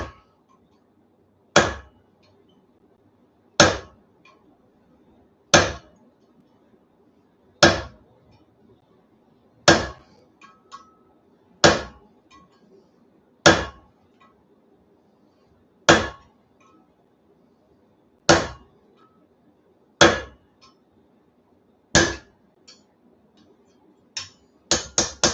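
A blacksmith's rounded fuller struck with a hammer to set a line into metal for a wheat twist: a steady series of sharp, ringing metallic blows about every two seconds, closer together toward the end.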